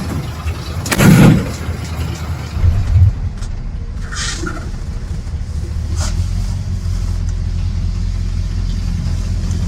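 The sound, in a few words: 1951 Ford F1 truck being driven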